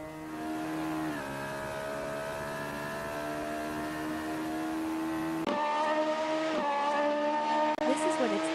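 A sim racing car drives through the Craner Curves in a Radical series qualifying session, its engine holding a steady, droning pitch with shifts and a sharp change in tone midway, and commentary heard over it.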